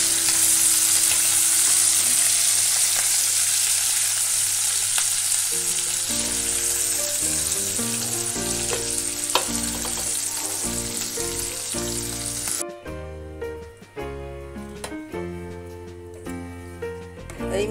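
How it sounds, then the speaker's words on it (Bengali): Prawns frying in hot oil give a loud, continuous close-up sizzle for a doi chingri dish, with background music joining partway through and the sizzle thinning toward the end. "চিংড়ি মাছটা ভাজা হয়ে গেছে,"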